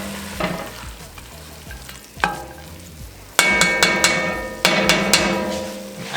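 Onions frying in a pot on a stovetop burner for chili, a steady close sizzle broken by loud clanks and scrapes of a utensil stirring against the pot.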